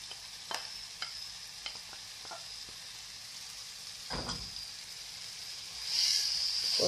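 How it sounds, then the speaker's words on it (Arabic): Peppers and onion sizzle softly in a frying pan, a faint steady crackle broken by a few stirring scrapes and clinks, with a brighter hiss swelling near the end. "ولا الفلفله ديالنا، نخليوها تشحر مزيان تنزل"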